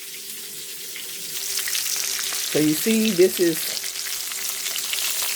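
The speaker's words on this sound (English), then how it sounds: "you have to sear this first. So I'm frying this up some before I put it in the oven." Stuffed mozzarella and spinach meatballs searing in a pan, a steady close hiss of frying oil with a low hum beneath, and a voice speaking briefly over the sizzle midway.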